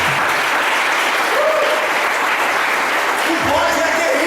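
Dense congregation applause fills a church service, a loud sustained wash of clapping with faint voices calling out briefly underneath.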